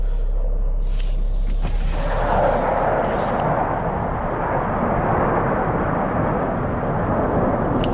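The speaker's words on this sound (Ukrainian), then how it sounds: "чуєте, як небі літають літаки." A deep, rolling roar of aircraft passes overhead in Ivano-Frankivsk, Ukraine, loud and continuous, with a low rumble swelling and lingering throughout.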